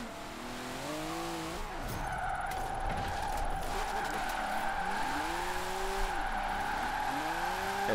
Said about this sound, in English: Long handbrake drag there